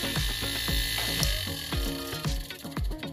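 A homemade air compressor built from a refrigerator motor starts and keeps running, giving a fast, regular knocking pulse over a steady mechanical whir, close and fairly loud.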